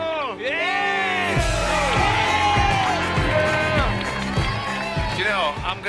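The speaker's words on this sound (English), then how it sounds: "Go on, Harry, give him a cheer" A crowd at a charity rickshaw challenge event cheers and whoops for Harry, with loud overlapping shouts and voices rising together close by, while people talk among the cheers.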